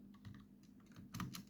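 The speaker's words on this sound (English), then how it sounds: "So what we do is type fastboot flash recovery" Fingers type a command on a computer keyboard in a short run of quiet, close keystrokes, the last few taps a little sharper.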